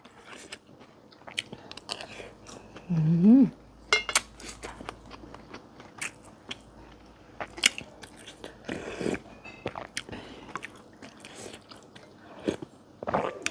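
Close, intermittent bites and chewing of northern Thai sai ua sausage with fresh vegetables, crisp crunches scattered irregularly over a quiet room with faint clinks of cutlery or dishes.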